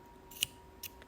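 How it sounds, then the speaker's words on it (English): Scissors snip the knotted cord of a beaded bracelet in two crisp, close cuts about half a second apart, set against a quiet background. "And then you cut the knot"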